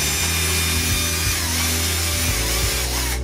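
A drill fitted with a 6 mm bit grinds steadily through plastic rivets on a Bosch Siemens washing machine door, a loud, continuous motor whine held close for the whole stretch with no break.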